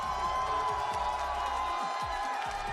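A Halo esports LAN crowd at HCS London cheering and whooping loudly and continuously over music, with muffled shouting throughout.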